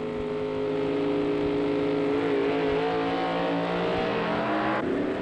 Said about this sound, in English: George Montgomery's A-Gas Supercharged versus Dave Strickler's AFX winner.